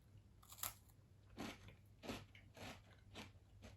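Someone bites into crunchy Lidl Speculoos biscuits, giving a close, crisp snap followed by several quieter crunching chews spaced about half a second apart.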